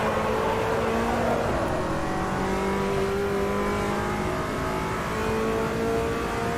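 A race car engine in the Automobilista 2 sim racing game drones steadily at high revs, shifting pitch through gear changes with a faint tire squeal, loud and continuous with no talk.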